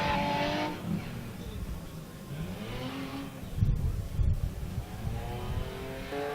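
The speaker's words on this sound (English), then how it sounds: "Loud BMW." Loud BMW drift car at a drift event, its engine roaring and revving as it slides through a corner, with crowd and track noise around it and a commentator talking over it.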